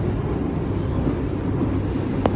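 A continuous low rumble of a moving train between Dhaka and Kolkata, steady and close, with a faint squeak near the end.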